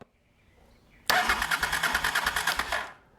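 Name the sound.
Honda Africa Twin motorcycle engine being cranked over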